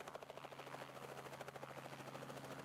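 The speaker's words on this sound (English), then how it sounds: "And up into the air goes the blue chopper." A blue helicopter lifts off and flies, its rotor making a steady, loud rhythmic chop with a whining engine hum throughout, close and continuous.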